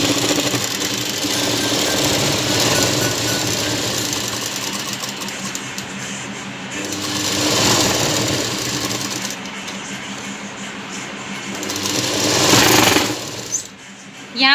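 A sewing machine runs steadily as it stitches the side seam of a blouse, a rapid mechanical chatter that swells and eases over several passes, then briefly stops near the end.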